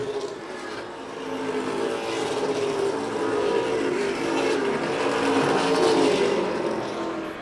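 Stock race cars lapping Wiscasset Speedway blend into a continuous mid-distance roar of engines that swells and fades slightly as the pack circles, with no voices.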